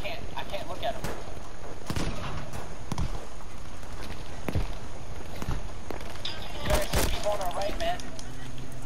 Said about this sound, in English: There are snipers shooting at me.